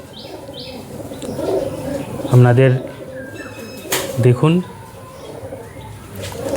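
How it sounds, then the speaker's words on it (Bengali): Short-sized Madrasi and Andhra pigeons coo at a home loft, giving a few rolling throaty calls close by, with chirps and someone talking between and over them. "আমার বাড়ির পায়রা।"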